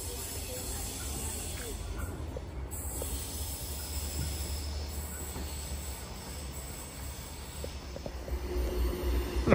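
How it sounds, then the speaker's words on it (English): A freight train passes through a station platform with steady rolling rumble, hissing and high metallic wheel squeals, continuous and fairly close, with occasional clanks. "We've got a freight train about to pass through platform number 1"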